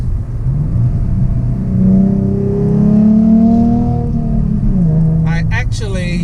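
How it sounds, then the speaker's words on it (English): Black Ford Mustang Transformers Edition with a Roush exhaust revving, a steady deep engine drone that swells in the middle, with someone talking over it throughout. "Oh, listen to that exhaust."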